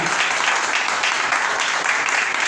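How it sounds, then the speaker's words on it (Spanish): A church congregation at a Sunday school service claps together in steady, dense applause that fills the whole stretch at an even loudness, with no pause. "Denle un aplauso a Él."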